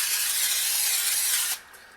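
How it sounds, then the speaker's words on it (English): Aerosol cooking spray hisses steadily onto well-seasoned cookie sheets for pizza, one continuous loud spray lasting about a second and a half before cutting off, with no talking. "So I'm just going to spray that really well."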